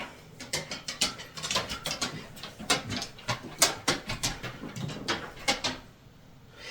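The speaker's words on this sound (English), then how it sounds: "you might hear his little clicky-clacky little nails on the wood floors" A dog's nails click and clack on a wooden floor as it walks in, a quick irregular run of sharp taps close by that fades out near the end.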